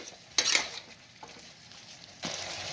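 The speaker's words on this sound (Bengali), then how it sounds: "এটা আমি এক দেড় মিনিট ভালো করে নাড়াচাড়া করে মিশিয়ে নেব যাতে না দইটা ফেটে যায়" Chicken with yogurt is stirred in a cooking pan over low sizzling, with two brief louder scraping sweeps of the spoon, close and soft, and no talking.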